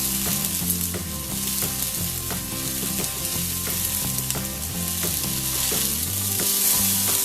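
Tomatoes, green chilies and a sprig of torn curry leaves sauté in a pan for soya chunks ularthiyathu, giving a steady close sizzle with repeated rhythmic stirring and scraping throughout, no talking.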